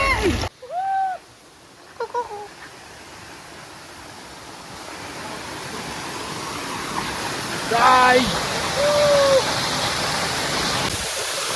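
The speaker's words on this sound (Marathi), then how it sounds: "धबधबा बघू शकता तुम्ही एकच नंबर आहे" Steady rushing roar of falling water fills the whole stretch, with a few brief voices rising over it near the start and toward the end.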